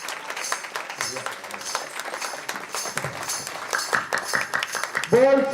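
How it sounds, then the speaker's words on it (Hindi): An audience at an Akhand Navdha Ramayan religious gathering in Bijour claps in a rhythmic, moderately loud stream of hand claps, with a voice speaking over it. "एक बार जोर से ताली हो जाए।"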